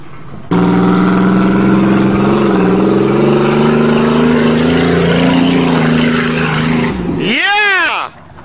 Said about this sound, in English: Who needs mufflers at Dave's farm?